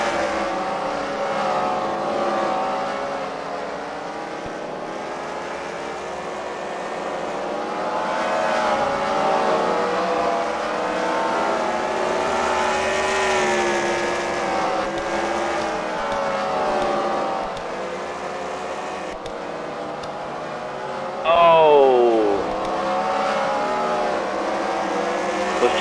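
Race cars roar around a dirt track during a heat race at the Freedom Factory, a dense, steady engine drone with rising and falling pitch as cars pass, and a sharper whine sweeping by near the end.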